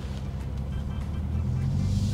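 A Hyundai Ioniq 5 N electric car plays its simulated engine note, a steady low drone that swells slightly as it goes, with faint voices alongside.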